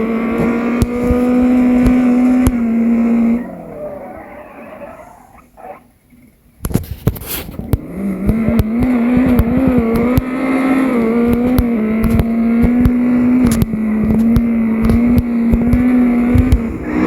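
A gasser drag car revs loudly and spins its tires, a strained, wavering engine roar that drops off briefly with a sharp crackling burst, then surges back into a sustained high-pitched howl.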